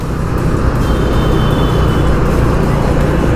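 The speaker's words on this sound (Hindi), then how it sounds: "ट्रैफिक बड़ा ज़्यादा हो गया एकदम से" Steady, dense road traffic hum fills the whole stretch, a continuous rumble of passing cars and heavier vehicles on a busy road where the driver stops to refuel while following a group of supercars including a Porsche.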